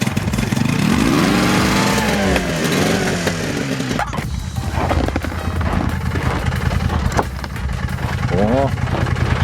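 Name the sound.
Buran snowmobile engine starting and running after blowtorch warm-up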